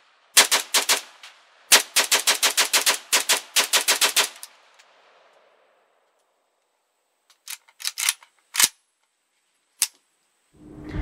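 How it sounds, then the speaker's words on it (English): South African Vektor LM5 rifle fired at a range, loud sharp shots in quick strings of several rounds each, then after a pause a few scattered single shots, with a clunk at the end. "you just saw us firing this rifle here. This is a South African Vector with a K, LM5."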